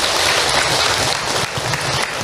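An audience applauds Ibu Maziah after her question at an Islamic talk, a steady dense wash of clapping from many hands, even in level and unbroken throughout.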